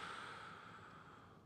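One long, soft exhale is pushed out through the mouth during an abdominal exercise, a breathy whoosh that fades over about a second and a half, close and quiet.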